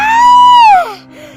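A woman's scream in an animated Hindi horror story about a bride: a single loud, close, high cry that holds and then falls away over about a second, ending in quiet.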